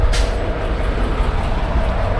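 A passing train, heard from a truck on a Canadian highway between Winnipeg and Kamloops, gives a continuous heavy low rumble and rolling noise at steady loudness throughout, with no talk.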